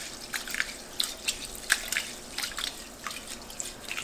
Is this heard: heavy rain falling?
no